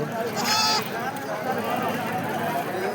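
A goat bleats once, loud and close, at the weekly tribal market in Parlakimidi, Odisha, over a steady murmur of crowd noise and talk.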